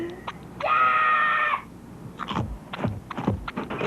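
A single high, sustained scream lasting about a second, close and loud, then a run of clicks and tapping sounds.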